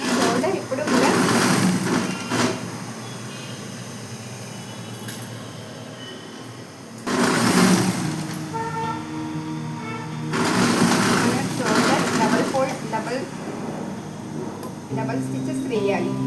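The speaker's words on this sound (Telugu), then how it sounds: "ఓకే, ఇప్పుడు స్టిచ్చింగ్ చేస్తాను" A sewing machine stitches a short petticoat in a tailoring class, running in several whirring bursts beneath a person speaking steadily throughout.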